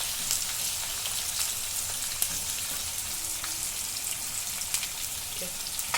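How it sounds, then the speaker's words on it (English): Chopped onion sautés in hot ghee in a pan, a steady close crackling sizzle with occasional sharper pops and faint stirring, no voices. "Now we're going to add the onion"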